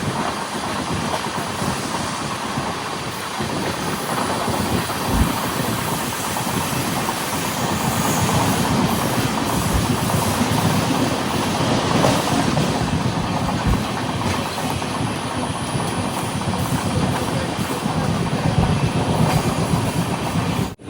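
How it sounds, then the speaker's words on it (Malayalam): Gomteshwara Express on the Bengaluru to Mangaluru route approaching Kasaragod railway station, a continuous loud rumble of coaches rolling on rails with faint rhythmic clacks, heard from inside the train with no voices. "ട്രെയിൻ ഇപ്പോൾ കാസർഗോഡ് റെയിൽവേ സ്റ്റേഷനിലേക്ക് എത്തുകയാണ്."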